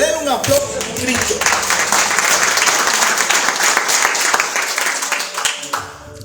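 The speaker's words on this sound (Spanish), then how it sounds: "Den un aplauso a Cristo." A church congregation in Envigado, Colombia, breaks into loud, sustained applause with crowd murmur, a voice heard at the start before the clapping swells and then fades off at the end.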